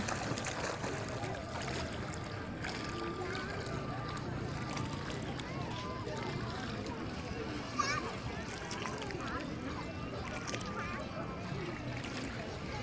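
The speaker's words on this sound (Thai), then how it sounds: "อุ้ยมันมีคลื่นจริงๆด้วย" Water laps and splashes around a small boat, with people talking throughout and a brief louder slosh near the middle.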